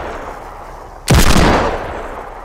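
A single loud burst of gunfire in the video game Fortnite during an Ice Storm zombie battle royale match, sharp and close, fading over half a second into steady background noise.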